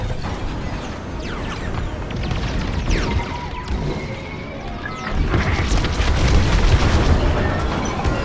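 Explosion as a broadcast dish is destroyed during a Star Wars: Squadrons space battle, a deep rumbling boom with crashing debris layered over continuous engine and combat noise, swelling louder in the second half.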